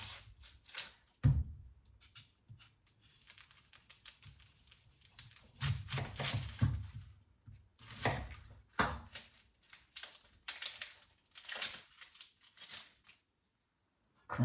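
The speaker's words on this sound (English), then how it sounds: "We're also going to do an onion." An onion being chopped on a board gives irregular knife taps and thuds in short bursts, with quiet pauses between, close and fairly faint.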